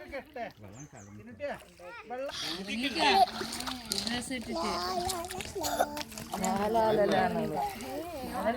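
Water splashes continuously under lively voices, including a child, as someone swims and kicks nearby.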